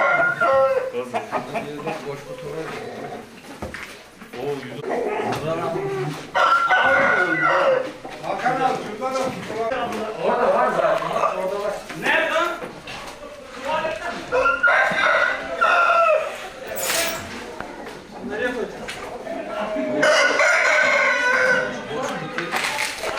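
Roosters crow repeatedly, loud and close, at a cockfighting venue during a police raid, their calls overlapping with chatter and voices talking throughout.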